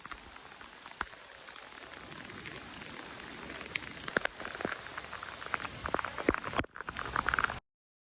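Water runs across a flooded back yard into a storm drain, a steady splashing, rain-like patter with scattered louder drips and splashes, ending abruptly.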